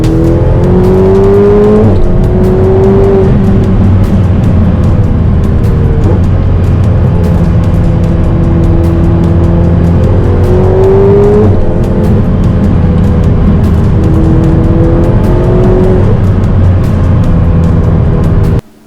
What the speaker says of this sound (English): I can finally enjoy the drive in the coupe version of the 488 in these very fast flowing Sardinian